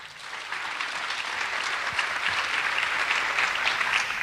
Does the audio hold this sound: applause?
yes